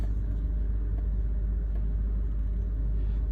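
A 4-cylinder Honda Accord idling with a misfire fault, a steady low engine rumble that holds even and continuous, heard up close with no voices.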